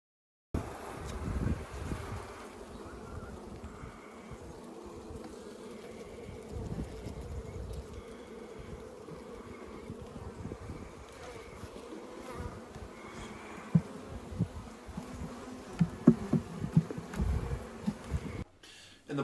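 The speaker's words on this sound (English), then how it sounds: "this apiary I've set up of 5 beehives really plays a role in the pollination of the crops" Honey bees buzz steadily around an apiary of five beehives in a food forest, a dense continuous drone close to the microphone with a few brief louder passes near the end.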